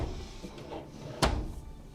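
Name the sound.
aluminum ball bearing drawer glides pulled fully out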